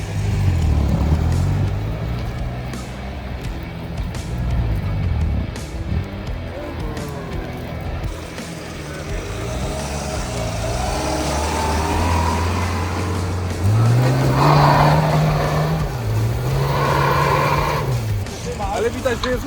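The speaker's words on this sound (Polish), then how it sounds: "Nic nie słyszę, bo silnik hałasuje." A rally car engine revs hard at full power, rising and falling in loud surges, with an especially strong high-pitched rev toward the end as people talk and laugh over it.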